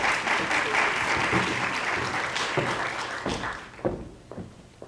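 Audience applause welcoming speaker Georgette Forney at IPFW during an Abortion Recovery Month event: dense, steady clapping from a crowd that tapers off near the end with a few scattered claps.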